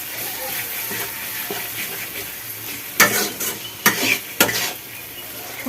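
Spices stir-frying in a pan for yogurt chicken, a steady close sizzle broken by several loud scraping clatters of the spatula against the pan toward the end, with no voices.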